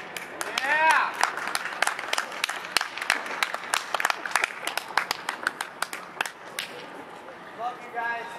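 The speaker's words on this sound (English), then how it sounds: "just give yourselves a round of applause because you are an amazing human being" Scattered, crisp clapping from a small audience, individual claps clearly separated in an uneven rhythm, with brief voices rising at the start and near the end.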